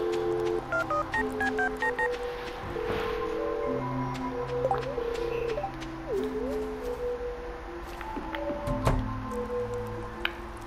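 Telephone dialing in the video game Stardew Valley: a quick series of short electronic keypad beeps, then a sequence of longer soft tones and small game blips, steady and close.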